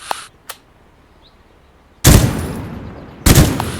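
Two loud bursts of gunfire from the Dagger Directive military multiplayer shooter, each a sharp crack trailing into a short rumble, preceded by a couple of faint clicks and near-silence.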